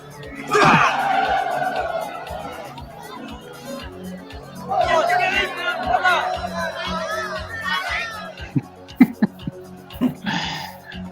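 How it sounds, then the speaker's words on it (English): A crowd cheering and shouting at a tournament fight in a martial arts film, bursts of loud overlapping voices and laughter swelling and fading, with sharp impact hits near the end. "The crowd is entertained."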